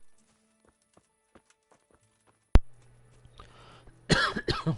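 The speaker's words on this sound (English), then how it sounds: "I keep pressing that button that apparently is to call your horse." Horse hooves clip-clop in the medieval video game Kingdom Come Deliverance, a few sparse, distinct steps at first, then a sharp thud, a low hum and a burst of louder movement and throat-clearing near the end.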